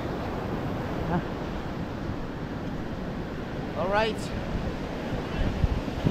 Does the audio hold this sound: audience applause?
no